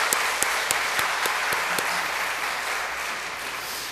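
A church congregation clapping together in a sanctuary, dense applause with a few sharp individual claps standing out, steady and then slowly thinning toward the end, no speech over it.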